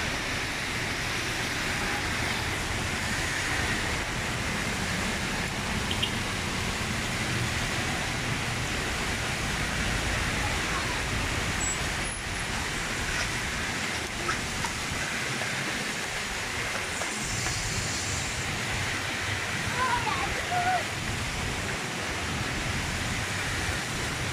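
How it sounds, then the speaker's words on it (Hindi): Heavy rain falling in Makkah, Saudi Arabia, a loud, dense and continuous wash of noise that stays steady throughout with no voices. "आज मक्का मुकरमा में बारिश हो रही है शदीद"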